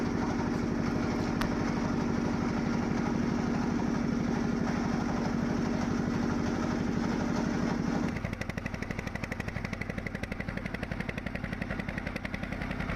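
A motorboat engine chugs steadily and loudly throughout, a rapid rattling drone that shifts to a slightly different pitch partway through, on a boat in the Sundarbans mangrove forest.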